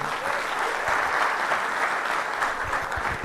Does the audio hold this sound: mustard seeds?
no